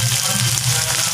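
Onions frying together with turmeric in a pan, a steady loud sizzle running throughout without a break, close up and continuous.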